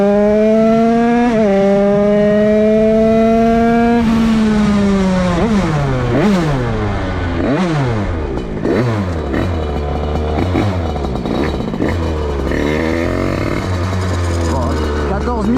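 A DRD 88cc Stage6 Big Racing moped engine revving loudly up close, a high buzzing two-stroke whine rising and falling through repeated throttle blips and sweeps, with a voice speaking over it.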